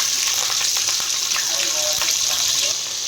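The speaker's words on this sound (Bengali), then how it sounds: "পেঁয়াজ কুচিটা ভেজে নিচ্ছি" Chopped onion and green chili fry in a kadai with a loud, steady hiss and a few faint stirring taps, close by.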